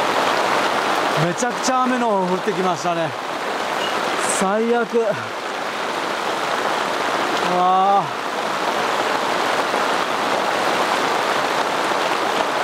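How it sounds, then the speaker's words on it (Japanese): Heavy downpour drums steadily and loudly on a campsite during a sudden cloudburst, a dense unbroken roar of rain throughout, with a person's voice speaking briefly over it. "めちゃくちゃ雨の降ってきましたね。"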